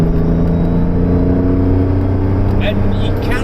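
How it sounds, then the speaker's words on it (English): Aston Martin DB5 engine drones loudly and steadily from inside the car as it slows into corners under engine braking, a continuous low rumble with a brief higher whine near the end. "Coming into the corners, obviously you're going to need some of that engine braking"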